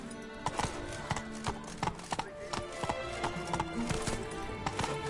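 Roach the horse in The Witcher 3 trots with steady clip-clopping hooves, close and clear, the hoofbeats forming a quick continuous rhythm over soft background game ambience.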